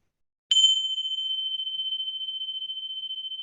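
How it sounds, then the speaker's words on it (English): A single meditation bell struck once, ringing out with a clear sharp attack and then a long steady sustained tone that fades only slightly, heard alone in silence. "Let the sound of the bell bring you to full awakening."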